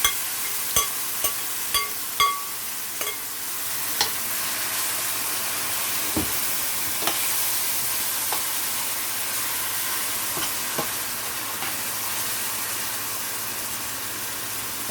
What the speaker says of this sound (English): I'm gonna add the kidney in